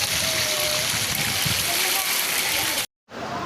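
River water flowing and splashing beside a mountainside, a loud, continuous broadband rush close by that cuts out briefly near the end before resuming.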